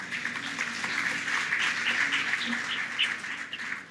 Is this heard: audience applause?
yes